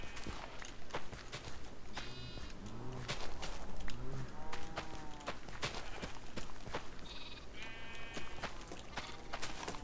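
Sheep bleat repeatedly in the Minecraft desert village game, several short wavering calls scattered among soft blocky footstep clicks and game effects, moderately close, with no talk over them.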